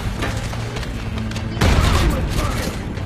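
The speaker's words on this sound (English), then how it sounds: "Grenade." A grenade blasts midway through a Call of Duty: Black Ops 6 firefight, a sudden loud boom that lifts the din of gunfire and battle noise, and remains loud afterwards.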